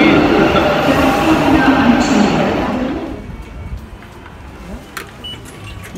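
A metro train at a Bangalore metro station rumbles loudly past close by, its roar fading over a few seconds into quieter station ambience, while people talk nearby.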